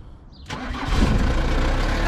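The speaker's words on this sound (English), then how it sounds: "Start a tranny van up with no batteries on, that's good going" A Ford Transit van engine with no battery fitted cranks briefly and catches after about half a second, then settles into a loud, steady idle close by.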